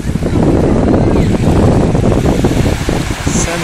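Sea waves on a beach, loud continuous rushing and churning water mixed with heavy wind buffeting the microphone, close and steady for the whole stretch.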